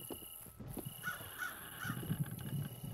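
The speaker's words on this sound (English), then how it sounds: "Find the crow!" Crow caws in the Secret Neighbor video game, three short calls repeating at an even pace over game background noise and low rumbling.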